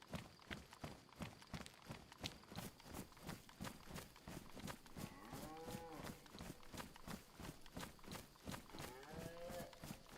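A cow in a zombie survival video game gives a couple of drawn-out moos over a fast, steady thudding of footsteps or hooves, mid-distance and moderately loud, with no talk.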